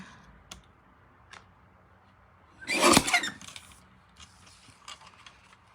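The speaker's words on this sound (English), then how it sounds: "I'm going to use my mini trimmer" A mini paper trimmer slices through card in one quick, close scraping cut lasting about half a second, with a few faint clicks and small handling noises before and after in a quiet room.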